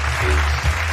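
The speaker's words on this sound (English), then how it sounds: "let's give him a round of applause" Audience applause fills a short burst, a dense steady patter of clapping at close range with no voices over it.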